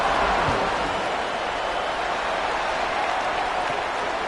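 Stadium crowd in a college football video game, Appalachian State at East Carolina, roaring in a steady, dense wash of cheering that holds loud and even throughout with no clear breaks.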